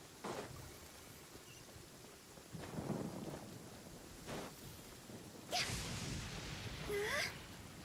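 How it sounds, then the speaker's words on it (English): A thunderstorm in Genshin Impact: steady rain hiss under several rolling thunder rumbles and sharp cracks, spaced every second or two, with the loudest crashes near the end. "And why is there a storm?"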